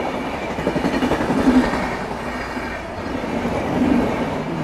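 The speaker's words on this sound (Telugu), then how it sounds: "ఏం ఫాస్ట్ పోతుంది ట్రైన్" A train runs fast along a railway track near a jungle route between Kerala and Karnataka, a loud steady rush of wheels and wagons with rhythmic clatter and brief squealing swells, no talking heard.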